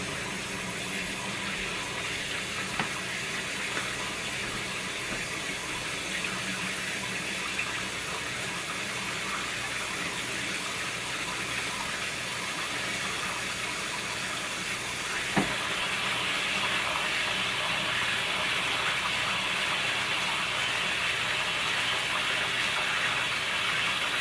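Hot water running from a tap during cleaning of a 1976 Williams Grand Prix pinball lockdown bar assembly, a constant close hissing rush that continues unbroken and grows slightly brighter and louder near the end, with a faint knock partway through.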